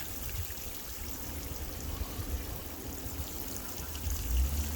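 Water from a garden hose pours into a cardboard box planted with potatoes, a soft steady trickling gush at low level that swells slightly near the end, with no voices.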